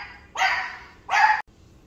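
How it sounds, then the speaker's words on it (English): A dog barks twice, two loud, rough barks a fraction of a second apart, close by, followed by quiet. "And that's my dog."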